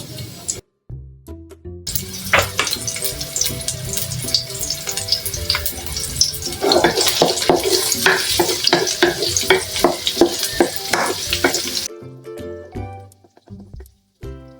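Garlic and onion sizzle and fry loudly in a hot pan while a utensil stirs and clinks against the metal, a steady crackling sauté that starts after brief quiet and fades near the end.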